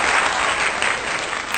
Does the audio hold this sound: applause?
yes